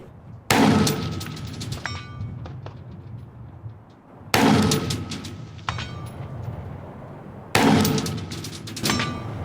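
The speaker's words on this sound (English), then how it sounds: "Let's get shooting." Three loud, sharp rifle gunshots fired at 500 yards ring out close by, evenly spaced about every three and a half seconds, each with a ringing echo trailing off.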